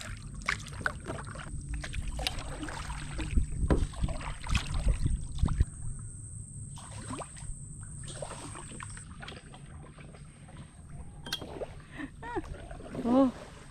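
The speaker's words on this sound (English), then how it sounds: "I'll be doing the paddling" Canoe paddling on open water near Nusa Lembongan, with paddle strokes and gentle splashes repeating through the clip under a steady background of wind and water, while voices talk intermittently.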